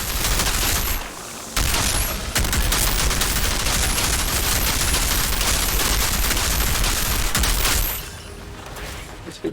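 Dense, rapid gunfire from the shooter game Outriders, loud and nearly continuous with automatic bursts and overlapping shots, briefly pausing near the start and thinning toward the end, with faint speech under it.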